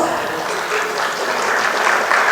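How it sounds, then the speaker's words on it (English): An audience at a civil-services felicitation conclave for OAS achievers breaks into steady, dense applause, a continuous wash of clapping that holds close and loud throughout with no pauses. "a glimpse of your round of applause"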